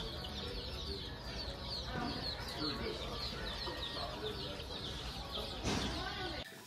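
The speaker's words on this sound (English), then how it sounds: "You see those chickens?" Chickens cluck and chatter softly in a farm supply store, with a faint, continuous flock murmur under steady indoor room noise.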